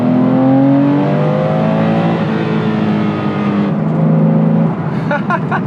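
Paul Stephens Autoart Porsche 993R flat-six engine on the road, a loud continuous drone with the pitch dropping and shifting as the car changes down a gear, close and steady throughout.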